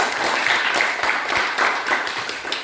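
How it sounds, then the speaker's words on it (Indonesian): A classroom of students claps for a presenting group, a dense burst of applause at close range that stays steady for its whole short length. "Tepuk tangan untuk kelompok 4."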